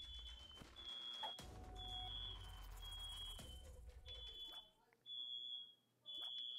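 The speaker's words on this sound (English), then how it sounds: "Oh, no, that is the smoke alarm." A household smoke alarm beeping in short, repeated high-pitched chirps, with game sounds and a low rumble underneath and brief quiet gaps.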